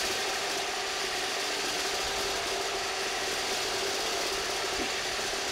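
A DeWalt Flexvolt 60V and a Makita 36V reciprocating saw cut together, giving a loud, constant buzzing, rattling drone that holds steady with no talk.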